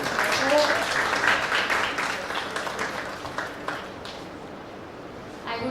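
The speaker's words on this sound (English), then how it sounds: "Special applause for them." An audience at a policy-making hackathon and panel discussion applauds undergraduate teams. The clapping is moderate and fades gradually, with some talking mixed in.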